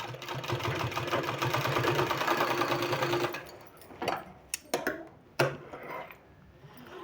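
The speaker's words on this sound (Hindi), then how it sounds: "इस तरह से इसमें इस तरह से सिलाई लगा देना।" A sewing machine stitching a sleeve runs in a fast, even mechanical chatter for about three seconds, then stops, leaving a few sharp handling clicks and knocks with no talking.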